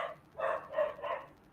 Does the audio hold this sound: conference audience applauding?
no